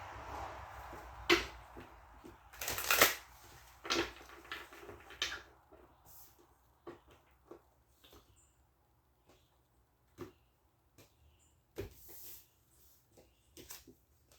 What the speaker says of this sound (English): I'm going to do one more shuffle and then I'm going to cut them